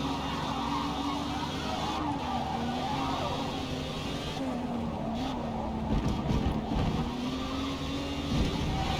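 Race car engine in Forza Motorsport at the start of a race, a steady droning tone that rises and falls with gear changes, plus brief scuffs and tire noise, heard alone at moderate level.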